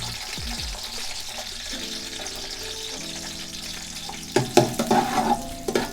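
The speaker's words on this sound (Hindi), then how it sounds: "सबसे पहले हम इसमें ऑयल डालेंगे, फिर इसमें प्याज डालेंगे" Onions go into hot oil in a pan for a pulao, starting a sizzling frying sound with clinks of a utensil and bursts of crackle in the second half, close and loud, without talk.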